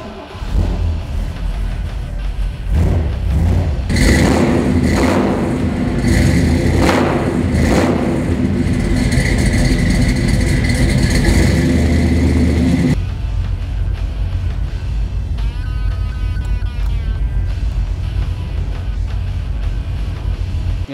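A 1978 Ford 4x4 truck engine cranks and rumbles to life, revving loudly several times before settling into a steady, deep idle close by.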